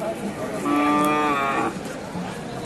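A single long, drawn-out moo from a nearby thin two-toothed cow at a cattle market in Naogaon, Bangladesh, over faint background noise.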